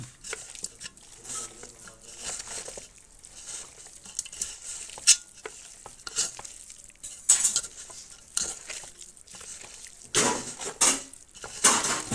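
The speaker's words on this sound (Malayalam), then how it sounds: "ഇപ്പം നല്ലതുപോലെ ഇളക്കി ഈ അരവ് നമ്മളെല്ലാ ഇറച്ചിയിലും പിടിക്കണം" Beef pieces being turned and mixed with ground masala paste for a Kerala beef fry, irregular scraping and clattering strokes against the vessel with bursts of wet sizzle, close and uneven.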